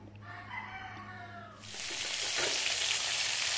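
Cassava frying in a pan starts with a sudden loud sizzle that holds steady, following a brief rooster crow in the background.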